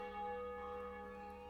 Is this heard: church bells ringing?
yes